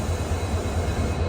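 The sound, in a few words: Namo Bharat rapid rail train departing toward Ahmedabad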